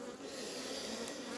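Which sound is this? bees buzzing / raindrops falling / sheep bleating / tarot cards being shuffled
bees buzzing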